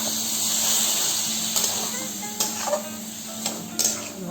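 Boiled ghugni dal being stirred into spices in a hot pan gives a steady, close sizzling hiss, broken by a few soft scraping clicks of the spoon.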